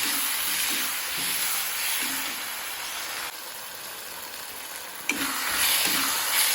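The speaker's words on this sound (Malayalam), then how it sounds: "ഇതുകൂടെ ഒന്ന് വഴറ്റിയെടുക്കാം നല്ല പോലെ." Peeled chopped tomatoes and onions sautéing in a pan for a cauliflower masala curry, a steady soft sizzle with occasional stirring scrapes, moderately quiet and close, one sharp knock near the end.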